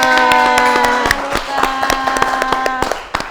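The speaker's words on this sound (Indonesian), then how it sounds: "Tepuk tangan buat Anita" An audience claps in steady rhythmic beats for Anita, third-place winner of a Ceman Cinta +62 contest, the claps sharp and close over a sustained musical tone.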